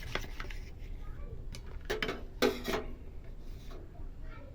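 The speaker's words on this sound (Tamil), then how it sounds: "இது தேங்காய் எண்ணெய் மிக்ஸ் பண்ணிவிட்டு நல்லா இந்த மாதிரி மிக்ஸ் பண்ணிக்கணும்." A spoon mixes onion peel hair dye powder with coconut oil in a small bowl, giving irregular metallic clinks and scrapes that bunch into a louder burst partway through, fairly close and quiet.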